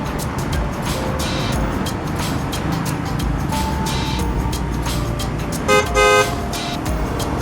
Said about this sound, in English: In East Flatbush, you will see dollar cabs all around beeping their horns trying to get passengers.